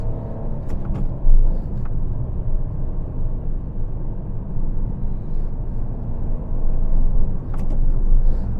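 Car engine rumbling steadily with a low drone as the driver accelerates uphill in second gear during a Turkish driving test, the revving swelling slightly louder toward the end, with no talking.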